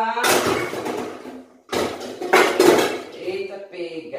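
Cooking pots being gathered up for washing, with loud metallic clanks and rattles of pots, pans and cutlery in bursts and a short pause, while someone talks over the clatter.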